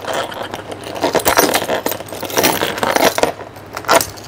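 A bunch of keys jangles loudly and continuously as someone searches for the right one to unlock a luggage suitcase, with irregular metallic clinks close to the microphone.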